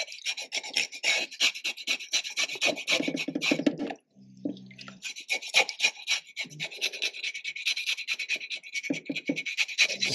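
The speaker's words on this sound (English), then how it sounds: "You need to really scrape it out like so. Hit some small scale on it." A pampano fish is scraped and scaled during cleaning, giving close, steady rasping strokes in quick rhythmic succession with one brief pause and a few wet taps.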